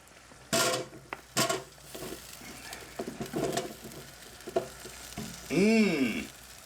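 Chips tumble into a preheated air fryer basket with a few sharp rustling clatters and a soft sizzle, followed by a brief rising and falling squeak near the end, all at close range.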